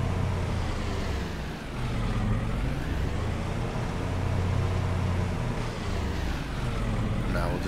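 Farm vehicle in Farming Simulator 22 reversing up to a trailer to hook up, a steady low engine drone that holds throughout with a brief dip in the middle, with someone talking over it.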